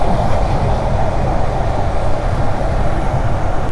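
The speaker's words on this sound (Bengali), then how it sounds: "ট্রেন যাচ্ছে ঢাকার দিকে।" A train passes toward Dhaka with a loud, continuous rumble and roar of rail cars close by, steady throughout without any voices.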